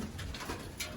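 Racing pigeons coo softly inside a loft that has just had its lights turned off, with a few low murmuring calls over a steady hum of room noise.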